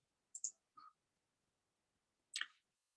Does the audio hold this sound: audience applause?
no